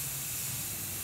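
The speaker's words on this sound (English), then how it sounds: "Now we're just going to give this a nice coat of black spray paint." Black spray paint hisses from an aerosol can in one steady, close burst lasting about a second, coating a wreath made from plastic shopping bags.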